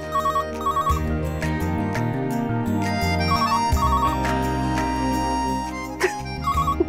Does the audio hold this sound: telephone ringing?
yes